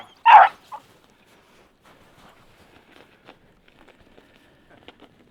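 A single loud hunting dog bark up close, followed by a short yip, then quiet rustling and faint footsteps.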